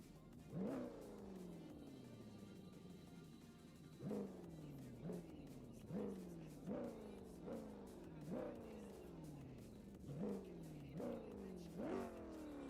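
A Ford Mustang V8 in CarX Drift Racing Online revs repeatedly at standstill, a series of sharp rising engine blips falling back each time, about nine in a row, with a commentator talking faintly underneath.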